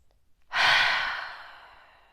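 A single long breath out, close and fairly loud, comes during a relaxation-focused yoga session for athletes. It starts abruptly as a breathy rush and fades slowly over about a second and a half, with no talking.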